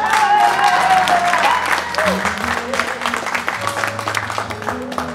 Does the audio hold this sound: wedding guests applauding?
yes